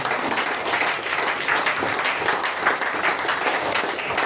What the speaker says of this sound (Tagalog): Palakpak sa nakakabasa ng Biblia.